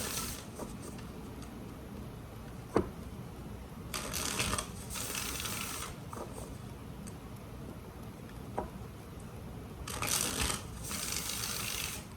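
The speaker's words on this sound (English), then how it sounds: "3 more shuffles for Taurus and their person." Tarot cards are shuffled in a quiet room, with soft riffling bursts coming in short clusters and separated by faint pauses and an occasional tap.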